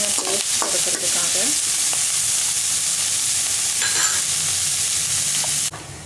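Onions, green chillies, dried chillies and chilli powder for a yellow pumpkin curry sizzle loudly in a pan, with steady close frying and a few scraping stirs near the start.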